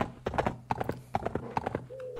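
A white horse in the video game Survivalcraft 2 clip-clops in quick hoof beats with a short whinny, close and clear, ending on a sustained tonal note.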